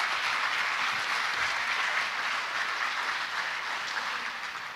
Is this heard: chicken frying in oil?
no